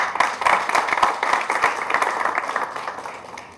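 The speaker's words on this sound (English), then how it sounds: "Let's welcome him with a huge round of applause" A live audience at a financial literacy talk in India claps steadily in dense, fast-paced applause that is loud at first and tapers slightly over a few seconds, with no voices on top.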